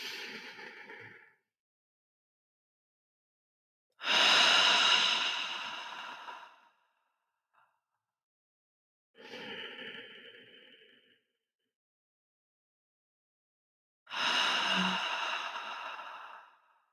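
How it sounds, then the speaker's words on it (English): People breathing in deeply, then out, in a calm guided exercise: slow, airy breaths in long bursts separated by silent pauses. "We're going to breathe in."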